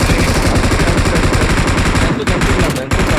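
Rapid automatic gunfire in a video game, loud and continuous bursts filling the scene with barely a pause.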